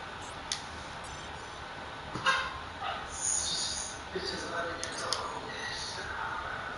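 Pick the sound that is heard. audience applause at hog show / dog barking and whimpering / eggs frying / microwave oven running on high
dog barking and whimpering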